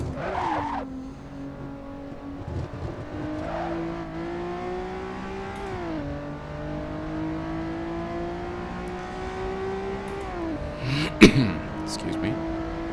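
A Honda NSX engine in Assetto Corsa drones with steady harmonic tones that rise and shift through gear changes, with a brief sharp burst near the end; a voice talks intermittently over it.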